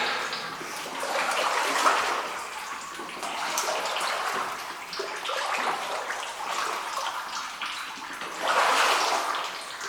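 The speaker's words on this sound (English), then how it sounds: "That's what we're hearing though, is that dripping." Water trickling and splashing inside an underground mine, a continuous wash of sound that swells and fades in waves, moderately close, with no talk.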